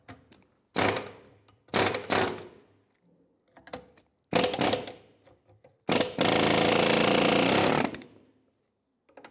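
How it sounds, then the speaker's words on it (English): Pneumatic air chisel hammering on a metal lip of a 1996-2002 Toyota 4Runner control arm, heard as several loud close bursts of rapid rattling impacts, the last one a long sustained run of about two seconds. "my idea is to take an air chisel and bend this lip down so I can put a cup right on the control arm"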